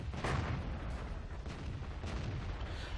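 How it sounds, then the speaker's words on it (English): An artillery shell striking a tank in World of Tanks, with heavy booming blasts and a rumbling burst early on, then another impact amid continuous battle noise. "I got hit by artillery."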